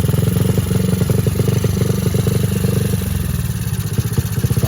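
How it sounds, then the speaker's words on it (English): Honda four-stroke dirt bike engine running at a low idle after carburetor adjustment, a steady close, loud mechanical thrum with a rapid even pulse throughout, no talking. "it's adjusted to where we have a low idle"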